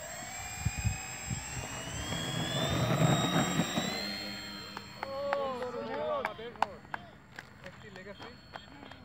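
A twin-engine RC plane with dual electric motors whines in a steady high-pitched drone, rising and shifting as it passes and fades with distance, with people talking and shouting nearby.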